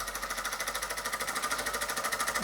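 A 1948 Mamod Minor 2 model steam engine runs with a fast, even chuffing beat, a steady close-up mechanical pulse repeating several times a second with no talk.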